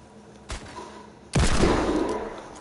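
Two video game gunshots ring out, a light crack followed by a much heavier, booming hand cannon blast that trails off with rumbling echo.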